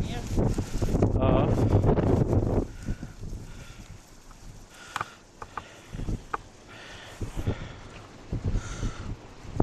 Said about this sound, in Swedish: oh, vad det blåser nu. Det blåser bara mer och mer.